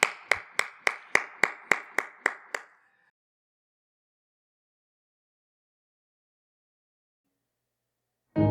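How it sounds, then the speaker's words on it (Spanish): About ten sharp, evenly spaced handclaps ring out at a church gathering, then stop, followed by a long silence before a sudden loud sound at the very end. "Le damos un fuerte aplauso,"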